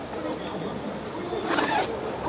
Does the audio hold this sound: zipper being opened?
yes